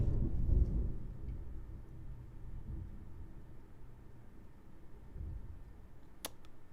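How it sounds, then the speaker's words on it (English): Thunderstorm in Girl's Frontline 2 Exilium, a low heavy thunder rumble at the start fading into a soft steady wash of rain, with a sharp short crackle near the end. "I wasn't expecting a thunderstorm."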